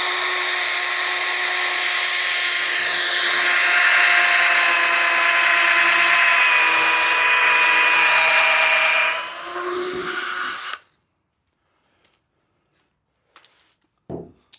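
A power drill whines steadily at close range in a garage during bench building for about ten seconds, then cuts off, leaving near silence with a couple of faint knocks.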